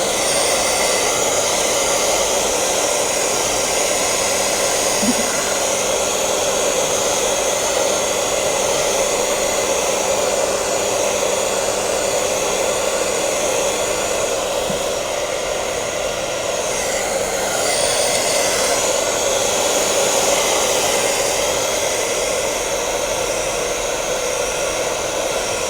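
Hair dryer blowing cool air over a wig being re-glued, a loud, steady close whoosh running without a break, with no talk.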